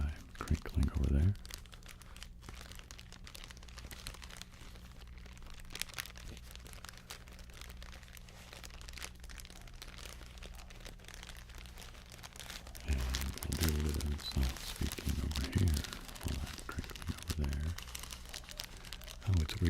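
Plastic bags crinkle and crumple in scattered bursts, loudest at the start and again in the last third. A quieter stretch sits between them, and soft talk runs underneath.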